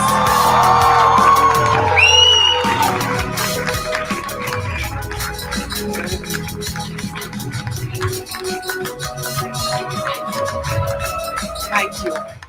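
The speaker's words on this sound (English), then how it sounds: "I want to hear the hall burst with applause" A hall audience at a women's event bursts into loud, sustained applause mixed with whoops, yells and cheering, which then settles into steady clapping that runs beneath voices.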